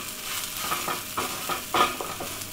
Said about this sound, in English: I'm just giving it a good stir.